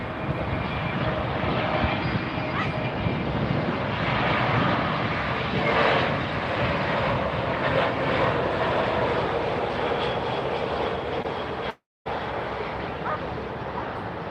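Large airliner arriving at Miami Airport, an A380 or 747, heard close up as a broad steady jet roar that holds loud throughout with a brief dropout near the end.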